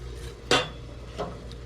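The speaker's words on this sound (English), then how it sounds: "Don't forget to monitor your chocolate. And keep on stirring." A spoon stirring melting chocolate in a pot gives one sharp metallic knock against the rim, then a softer second tap, over quiet background hum.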